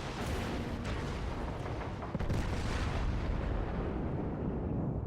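Naval gunfire in World of Warships during a battle with a Baltimore cruiser, battleships and a destroyer, heard as a continuous dense roar of distant booms with one sharper report midway.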